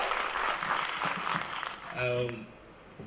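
An audience applauds the director at a success celebration for the film Mohiniyattam, clapping under and around a speaking voice, then tapering off as a tone sounds near the end.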